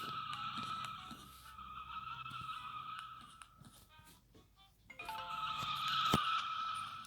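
A truck engine in the Roblox game Delivery Simulator drones steadily with a high whining tone, dips briefly, then revs back up louder with a sharp screech near the end.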